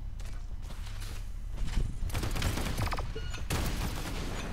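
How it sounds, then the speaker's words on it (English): Rapid gunfire bursts in the video game Paladins, a steady dense volley running throughout with heavier clusters partway through, close and fairly loud with no talk. "I got shot to hell there."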